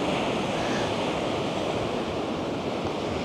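Big ocean waves at a beach on Boracay make a steady, loud roar of surf that runs the whole time, mixed with wind buffeting the microphone.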